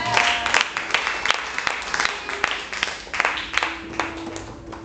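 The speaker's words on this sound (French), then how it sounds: "Est-ce qu'on peut acclamer Jésus pour sa parole?" A church congregation applauds and cheers for Jesus during a sermon on evangelism, with dense, steady clapping at moderate volume for several seconds and a few sharper claps standing out.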